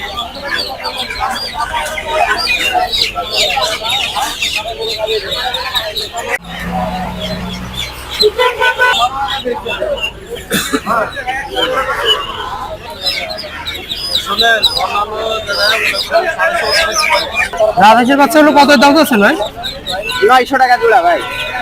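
Desi chickens cluck and squawk at the busy Tongi poultry market, repeated calls near and far mixed with loud overlapping voices of people talking.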